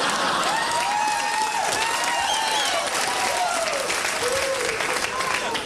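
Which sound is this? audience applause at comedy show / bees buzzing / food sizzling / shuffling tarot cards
audience applause at comedy show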